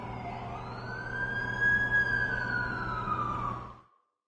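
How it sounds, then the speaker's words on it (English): An ambulance siren from The Amazing Spider-Man 2 on PS5 rises into a steady, high wail over a low traffic rumble, then fades out sharply near the end. "That's the ambulance I called."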